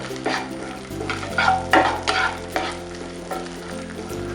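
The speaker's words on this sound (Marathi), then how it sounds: "त्यानंतर आपण अर्धा इंच आलं टाकूया पाच ते सहा लसूण पाकळ्या तीन चमचे चण्याच्या डाळ्या परतून घेऊया" Ginger, five or six garlic cloves and chana dal sauté in a pan for a stuffed squid curry, a loud, close sizzle with brisk, repeated spatula scrapes and knocks, no voices.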